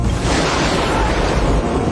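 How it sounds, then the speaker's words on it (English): A film's stormy sea scene from The Truman Show, with violent wind, rain and thunder rolling as one loud, dense roar that stays steady throughout the short burst, with no speech. "He unleashed violent winds and rain, thunder and lightning."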